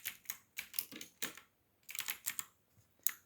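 Fingers tap quickly on a computer keyboard in close, soft clusters of keystrokes, with short pauses between bursts and no voices.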